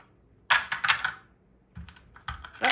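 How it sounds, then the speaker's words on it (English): A few D6 dice tumble and clatter onto a hard surface in two short bursts of rattling clicks, close and distinct with near silence between. "let's go ahead and roll our D6 dice"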